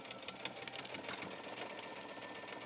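A sewing machine back stitches on a denim jean shirt, a rapid, even mechanical chatter of the needle running continuously at close range and moderate loudness, with no talking.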